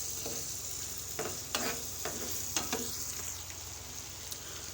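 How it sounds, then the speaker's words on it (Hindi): Bottle gourd (lauki) frying in a pan over a medium flame, a continuous low sizzle broken by several spoon scrapes and stirs, close and fairly quiet. "तो लौकी को फ्राई होते हुए अभी 2 मिनट हुए हैं।"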